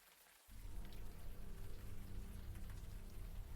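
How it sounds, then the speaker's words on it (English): Warm rain in the video game Unavowed starts abruptly and keeps falling as a steady, dense patter of drops, with no voices over it. "the warm rain is coming down"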